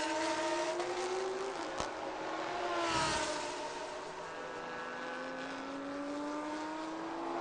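Race cars at the Thailand Super Series, a Lexus RCF leading a Ferrari 488 Challenge, roar past on the circuit with rising and falling engine pitch and shifting gears. The sound carries at a moderate distance and no voices are heard.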